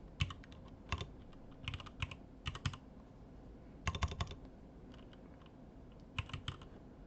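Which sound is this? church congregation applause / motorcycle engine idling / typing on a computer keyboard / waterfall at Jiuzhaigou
typing on a computer keyboard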